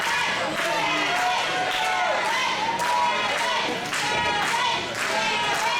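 Wrestling arena crowd at a live wrestling event, a dense continuous roar of cheering and applause with some clapping, steady and loud throughout with voices mixed in.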